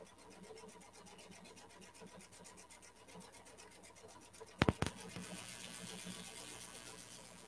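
A PFAFF Creative icon embroidery machine stitches out a design, with a steady, rapid needle chatter close by and a couple of sharp clicks partway through. No one talks.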